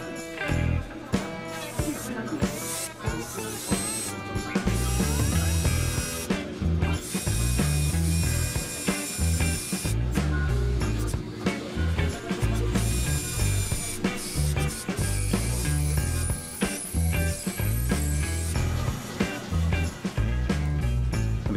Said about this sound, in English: what we're going to have to do is drill a hole through it